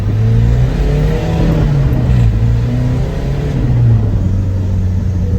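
A Ford Transit van fitted with a BMW engine accelerates in second gear, its steady engine drone rising in pitch as it pulls, loud and close throughout with no talk.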